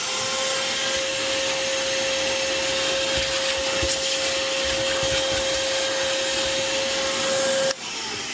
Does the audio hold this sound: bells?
no